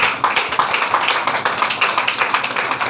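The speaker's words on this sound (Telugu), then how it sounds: "చప్పట్లు కూడా దేవుని మహిమ." Congregation clapping in a church during a Sunday prayer service, a loud rhythmic burst of many hands in a steady beat that carries on without break.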